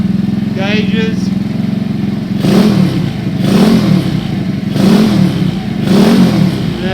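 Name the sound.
supercharged postie motorbike engine while riding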